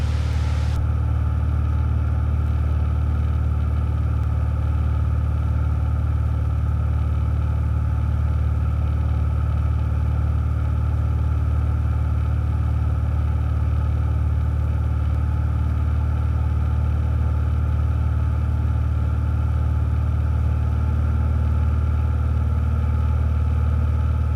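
The engine of a Cessna 172 drones steadily from inside the cockpit during a student solo flight, a loud, unbroken hum with a fixed pitch and no voices.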